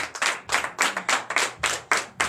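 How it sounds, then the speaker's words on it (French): A church congregation at a Sunday worship service in Comè, Benin, claps in loud rhythmic bursts, roughly eight clustered rounds of hand claps, close and without talk. "je vous demande d'applaudir très très fort ce matin"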